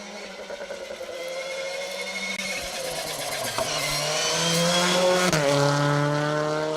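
A Citroen C3 R5 rally car on an asphalt special stage revs hard and climbs through the gears, its engine note rising and swelling louder as it closes in, with gearchange dips along the way.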